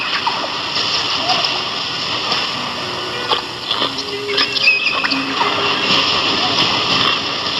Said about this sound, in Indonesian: Kita sudah menyeberangi sungai Citandui.